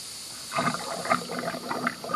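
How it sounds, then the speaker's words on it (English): Coolant and pressure bleed out through a car's expansion tank with a soft, close gurgling and bubbling trickle that lasts about two seconds. "I will bleed the rest of the coolant, the rest of the pressure out using the expansion tank"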